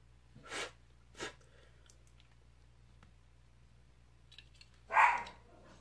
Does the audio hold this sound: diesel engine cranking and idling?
no